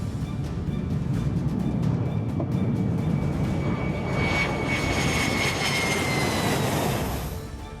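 Fighter jet flies overhead, with a steady loud roar of jet engine noise that swells and then fades toward the end, heard alone without voices.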